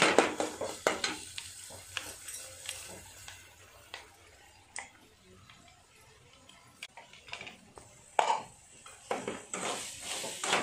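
Soybean and pea curry with crushed peanut powder stirred in a pan, a soft sizzle under repeated scraping and clinking of a spoon against the pot, irregular and fairly quiet, with no talking.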